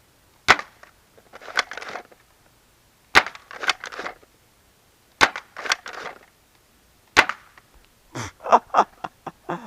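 A Nerf Hegemon blaster fires foam darts at a spinning target. Five sharp cracks come at about two-second intervals, each followed by a short rattling clatter.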